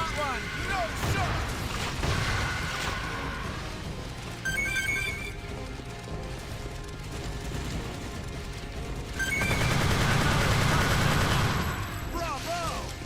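Rapid, dense gunfire from the video game Earth Defense Force 2017, sustained automatic bursts with ringing electronic tones and swelling intensity, mixed with in-game voices shouting over the shooting.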